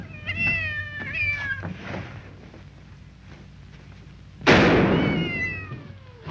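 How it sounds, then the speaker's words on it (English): A cat meows several times in a 1943 wartime film, with rising, wavering calls close by, then a sudden loud gunshot-like bang followed by one more drawn-out meow. "Besides, it was only a cat."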